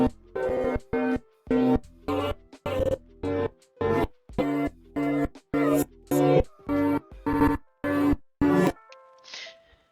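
A reversed, chopped sample plays as a string of about a dozen evenly spaced pulses, each swelling in and cutting off sharply, the rhythm loud and steady before it drops off into a brief faint tail.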